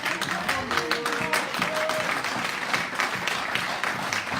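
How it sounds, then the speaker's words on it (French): An audience at a church gathering gives scattered, fairly subdued applause, a continuous soft patter of clapping with a few faint tones and murmurs underneath. "Ça, c'est l'applaudissement timide de tous ceux qui disent « Ok, je suis obligé d'applaudir parce que je sais que c'est vrai que c'est le pasteur. »"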